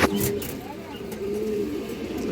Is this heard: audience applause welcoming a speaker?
no